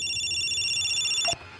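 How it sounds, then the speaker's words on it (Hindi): A phone rings with a steady, high electronic tone that holds for more than a second before cutting off abruptly, leaving quiet background noise. "लेकिन तभी जेराल्ड का फोन बज उठा"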